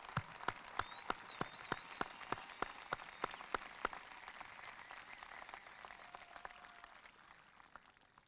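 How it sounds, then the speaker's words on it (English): Audience applause at the Del Rio High School Class of 2015 graduation ceremony: sharp, fairly distant clapping with distinct claps early on, settling into a softer, steady patter that fades toward the end. "join me in a round of applause to say thank you to all of the parents and"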